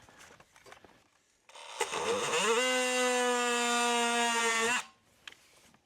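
An oscillating multi-tool cutting through a plumbing pipe: a high, buzzing whine that rises in pitch, holds steady and loud for about three seconds, then stops, with quieter handling clatter before and after.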